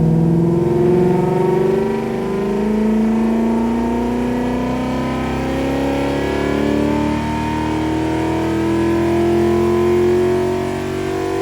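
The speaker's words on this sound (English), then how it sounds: "so here is the first dyno run" A 2010 Lexus ISF engine revs hard on a hub dyno, its pitch climbing and sweeping in a long sustained pull, loud and close, with no voices over it.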